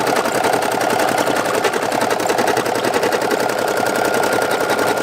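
A Brother SE1900 embroidery machine stitches a patch with a steady, rapid mechanical chatter of needle strokes, loud and close, running without pause and with no voices.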